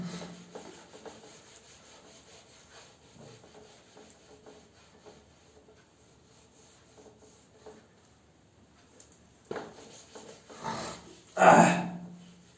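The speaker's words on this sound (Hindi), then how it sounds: "अब इसको मैं रब कर रहा हूं" Rubbing or erasing on a classroom board during a physics lesson: soft, faint scraping strokes under quiet background, building to a few louder, brisk rubs near the end.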